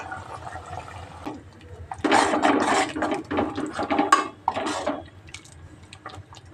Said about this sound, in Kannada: ಇವಾಗ ಇದಕ್ಕೆ ನೀರನ್ನು ಸೇರಿಸ್ಕೊಳ್ಳೋಣ.